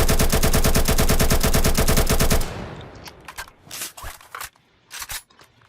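An AKMS rifle in a video game fires a rapid, loud automatic burst of about twenty evenly spaced shots. Scattered clicks and short bursts follow, then the shots trail off.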